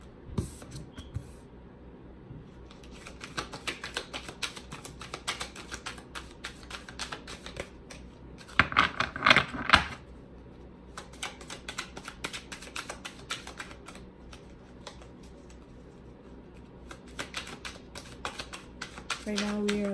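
Tarot cards are shuffled and pulled from the deck, making a steady rustling, flicking patter throughout with a few louder riffles midway. The sound is close and fairly quiet.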